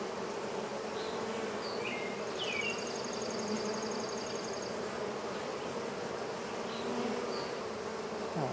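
Bees buzzing around a cat house, a steady faint hum of many insects with occasional bird chirps in the background.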